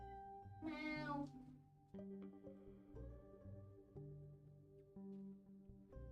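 A house cat meows once, close and clear, in a stretched wavering call, followed by quieter indoor sounds and faint murmuring in a still room.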